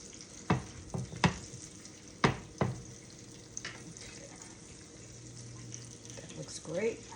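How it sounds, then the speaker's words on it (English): Chilean sea bass sizzles gently in a pan as it is basted, a quiet frying hiss punctuated by several sharp clinks and clatters of the spoon, with a brief voice at the very end. "Let me baste it a little bit."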